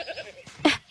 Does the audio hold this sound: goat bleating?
yes